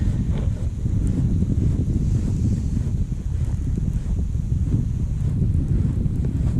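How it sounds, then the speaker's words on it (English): Strong wind buffeting the microphone at a lake boat landing in below-freezing weather, a constant low roaring rumble with gusty fluctuations and no voices. "Wind's a little bit chilly when it's below freezing."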